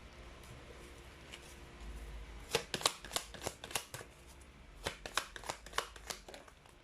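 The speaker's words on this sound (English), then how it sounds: "let's pull up another set of cards here" Tarot cards shuffled and drawn, with a quick run of crisp riffling snaps and flicks in two bursts, close and fairly quiet, with no talk.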